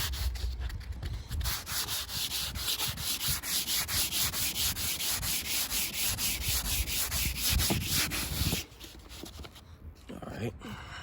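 Sandpaper rubbed by hand over sun-damaged, cracked car paint makes a steady, rhythmic scratchy rasp of quick back-and-forth strokes, close and loud. It stops abruptly near the end, leaving quieter handling noise.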